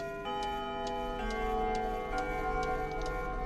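A clock in a Nancy Drew video game ticks at a steady, even pace, faint clicks over a sustained musical drone with no talk.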